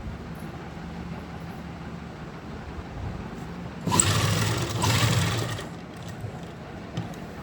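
A sewing machine runs in a brief, louder burst while stitching around a kurti neckline, a dense mechanical whir over a quieter steady background hum, with no talking.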